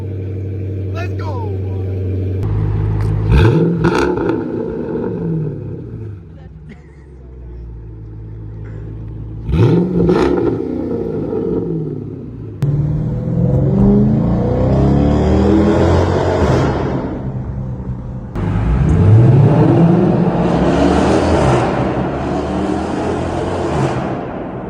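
A Dodge R/T engine with a Corsa exhaust revs in deep, rumbling surges and throaty pulls across several bursts, heard close up, with people talking excitedly between and over the revs.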